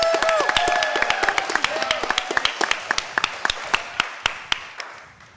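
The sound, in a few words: applause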